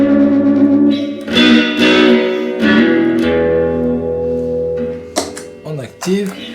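A clean electric guitar played through a reverb pedal placed ahead of a Klon-style overdrive rings out in several strummed chords with long reverberant tails, followed by a few sharper picked notes.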